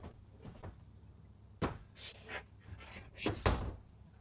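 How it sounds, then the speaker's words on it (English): An adjustable pantry shelf in an RV is shifted and set back into place, giving a few close knocks and clatters spread unevenly across a few seconds. "so I could adjust it and add more stuff to it in the pantry"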